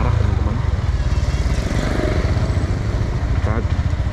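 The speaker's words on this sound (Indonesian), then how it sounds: "Nah ini ada bentor becak motor yang lawan arah teman-teman." A motorized pedicab (becak motor, bentor) rides along a crowded market street in Malang, its small engine droning steadily and loudly up close amid continuous traffic rumble and other motorbikes.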